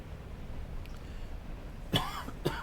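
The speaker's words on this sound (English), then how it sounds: "Ooh, sorry for the coughing." Two sharp coughs close to the microphone, about half a second apart, following a stretch of quiet background noise.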